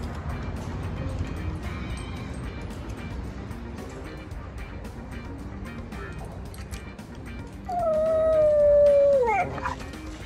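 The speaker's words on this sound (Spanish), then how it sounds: "obviamente escuchamos estos pequeños gruñidos que son muy diferentes a estar realizando gruñidos por agresividad pasiva" Whippet dogs interacting close by with low, rumbling small growls, then a drawn-out whining howl near the end over a busy background.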